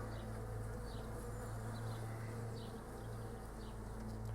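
Honeybees buzz around an open hive in a dense, continuous, fairly quiet drone with steady low hum tones and scattered closer passes of individual bees.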